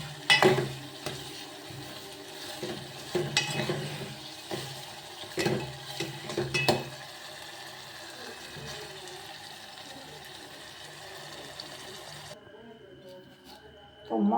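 Eggplant oro stirred and fried in hot oil in a pan, with soft sizzling and scraping stirs under a woman's speech, then fading to quiet near the end.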